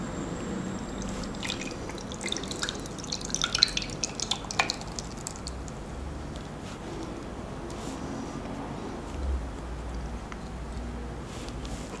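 A liquid mixture of one ingredient and water is poured through a cloth, giving a steady wet dripping and trickling that stays close and even throughout, with no talking.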